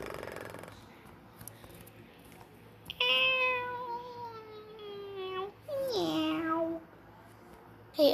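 A cat meows close by in two long, drawn-out calls separated by a pause, with a short third cry at the very end, in an otherwise quiet room.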